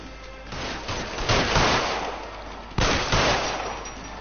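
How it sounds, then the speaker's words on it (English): Gunshots ring out in the crime game L.A. Noire: two sharp bursts of firing, the first rising and fading over a couple of seconds, the second starting abruptly about halfway through, loud and close. "Hij schiet daar en stopt."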